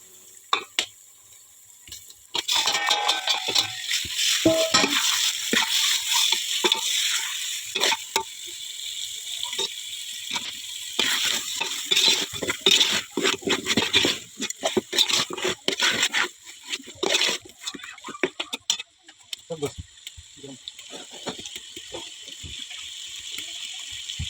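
Chicken goes into fried onion and garam masala in a village kitchen, setting off a loud sizzle. Irregular clattering stirs and scrapes in the pan follow, and the frying eases in the final seconds.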